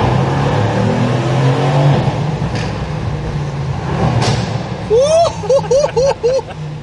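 A Mercedes C63S AMG with 510 hp roars through the Monaco tunnel during Grand Prix week, a sustained, echoing engine note that holds throughout. Voices exclaim over it near the end.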